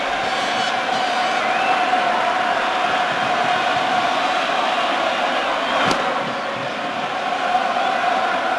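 A packed stadium crowd at a 1999 Braves World Series baseball game fills the air with a constant roaring buzz. One sharp crack cuts through the steady wash of noise.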